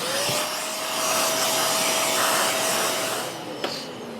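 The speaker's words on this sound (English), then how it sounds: "repurposed home use vacuum." A repurposed home vacuum cleaner runs steadily in a workshop cleanup of a Husqvarna 36 chainsaw, a loud whining motor drone with a slight pitch drift, alone, ending with a small knock.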